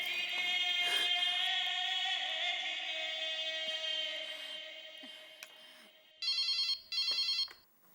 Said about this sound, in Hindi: चलो एक बार टप्पू के पापा को फोन करके पूछती हूँ